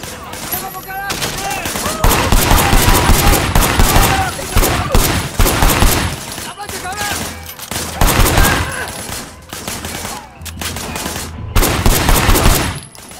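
Rapid automatic gunfire in the Sleeping Dogs video game, loud bursts and sustained fusillades that come and go in waves over several seconds, with brief gaps between volleys.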